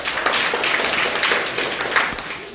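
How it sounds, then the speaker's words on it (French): Audience at a student orientation day applauds with steady, dense clapping that stays even and sustained throughout, with no voices over it. "Vous l'applaudissez encore."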